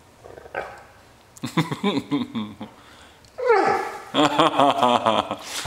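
A dog close by gives short yips and whiny barks in uneven bursts, with a person's voice mixed in.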